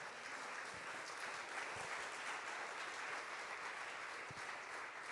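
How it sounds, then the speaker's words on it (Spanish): Steady, sustained applause from a church congregation fills the space, an even wash of clapping that holds at the same level throughout with no voices rising above it. "Denle un aplauso al Señor."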